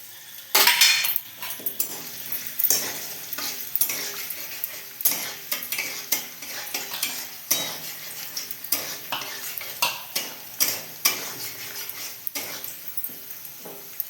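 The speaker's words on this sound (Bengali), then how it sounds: "এবার ওই তেলে কিশমিশ কাজুগুলো দিয়ে দেবো" Raisins and cashews fry in hot oil in a pan, a steady sizzle punctuated by repeated scraping and clinking strokes of a stirring spoon.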